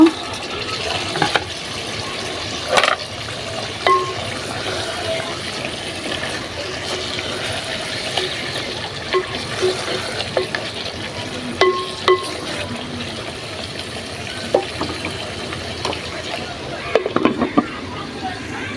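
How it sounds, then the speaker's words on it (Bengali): Fried potatoes are stirred into a bubbling fish curry in a pan, with wet stirring, sizzling and liquid sloshing that run throughout. Occasional utensil clinks stand out, and people talk in the background. "তো এখন আমি ভাজা আলুটা দিয়ে দিব কষানোর জন্য"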